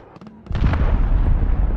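An enemy cruise missile strike in Call of Duty: Modern Warfare: a few sharp cracks, then a heavy, loud explosion that rolls on as a deep sustained rumble.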